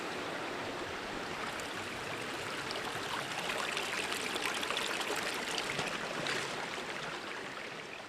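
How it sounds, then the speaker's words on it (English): Boots wade through a shallow stream in a woodland, producing continuous rushing and splashing water that stays close and fairly loud throughout. "you can still tell that we're paddling through water a bit"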